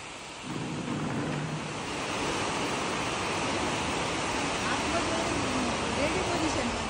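Heavy rain pouring down in a steady, loud hiss that swells slightly after the first second and holds constant throughout, with faint voices underneath.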